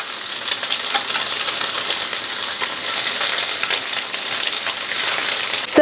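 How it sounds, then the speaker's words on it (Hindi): Eggs frying in a pan, a continuous bright sizzle and crackle with faint spattering pops, close and steady throughout. "2 मिनट के लिए अंडों को हम पलट पलट के फ्राई करेंगे।"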